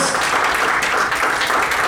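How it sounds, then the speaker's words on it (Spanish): A church congregation applauds during a service, a loud, dense wash of clapping sustained and close throughout the short burst. "Denle un aplauso al Señor con todo su corazón"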